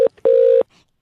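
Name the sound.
telephone line beeps during a phone call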